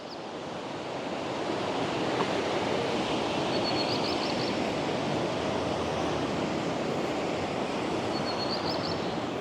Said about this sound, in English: Everywhere you look, water is cascading from hanging valleys, turning into mist before it even hits the ground.